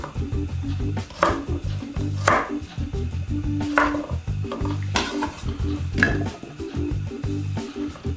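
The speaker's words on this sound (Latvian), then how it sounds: "Ķiploka daivas uz pusēm." Knife chopping garlic cloves in half on a board, a series of sharp, close cuts spaced about a second apart over a steady low hum of kitchen background.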